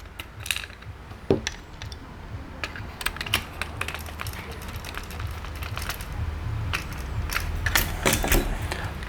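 Small plastic clicks and light rattling from fitting and lining up a Tamiya Frog model car gearbox, loose parts tapped and nudged by hand in a steady scattered patter, close and moderately quiet with no talk.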